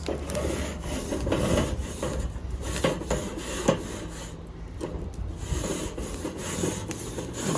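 A grate on a wood-fired Santa Maria grill scraped clean, giving irregular close rubbing and rasping strokes with an occasional sharp knock and no talking.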